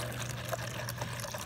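Water poured out for pigeons to drink, a soft steady trickle of liquid at low level, continuous and alone.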